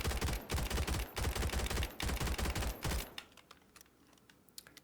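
Rapid automatic gunfire from a video game weapon, fired in short feathered bursts with heavy recoil, loud dense volleys for about three seconds, then fading to faint scattered clicks and quiet.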